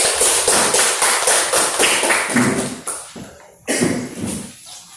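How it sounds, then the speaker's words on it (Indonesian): A classroom audience gives a short burst of applause for a presenting group, dense close clapping that thins out and ends with a few scattered claps. "Sebelum memulai, kita berikan aplaus untuk kelompok 1"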